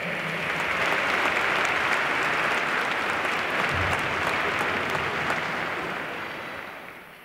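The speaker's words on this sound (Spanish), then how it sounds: "También le damos un aplauso." A concert audience gives a long, full round of applause for a military concert band's director, thick steady clapping that holds strong before fading slightly at the close.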